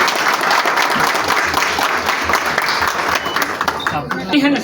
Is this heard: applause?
yes